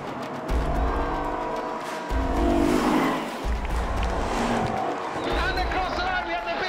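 Racing cars including a BMW roaring past on a circuit, engines revving and surging in repeated close passes under excited race commentary.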